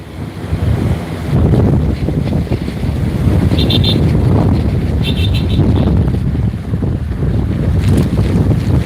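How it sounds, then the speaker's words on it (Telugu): Rough, churning sea waves surge and crash continuously at RK Beach in Visakhapatnam during Cyclone Montha, with strong gusting wind buffeting the microphone and a few faint high whistles above the roar. "ఈ అలల ఉధృతి అయితే మాత్రం ఎక్కువగా ఉందండి"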